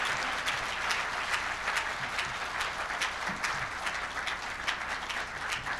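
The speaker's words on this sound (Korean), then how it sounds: "큰 박수 부탁드립니다." Sustained applause from the audience at a members' night awards ceremony for a Korean news outlet, dense steady clapping filling the room without a break as an award is handed over.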